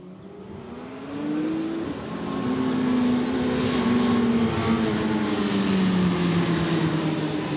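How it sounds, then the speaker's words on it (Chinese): Heavy 1000cc-class racing motorcycles roar along a race track, engines droning and rising in pitch as they accelerate past, loud and continuous with no talk. "在引擎的声音当中，重型机车的车手伫咧赛道向前冲"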